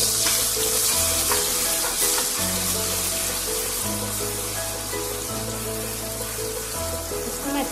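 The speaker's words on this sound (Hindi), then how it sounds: "अब हम इसमें उसी तेल में लहसुन प्याज का पेस्ट पीस के फ्राई करते हैं।" Garlic and onion paste fries in oil for matar paneer, giving a dense, steady sizzle with bubbling crackle and occasional stirring scrapes. It is close and continuous throughout, with no talking.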